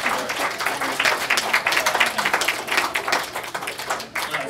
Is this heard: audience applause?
yes